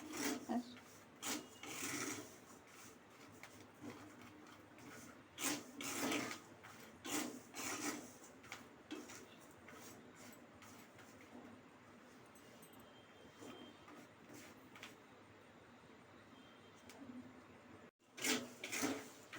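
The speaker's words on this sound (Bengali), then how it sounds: "বাদামটাও ঘরে ভেজে নিই, আমি বালি রেখে দিই।" Peanuts roasting in hot sand in a home kitchen, stirred continuously with a rough, scraping, rasping sound in uneven strokes, close-up and moderately quiet, running steadily for the whole stretch.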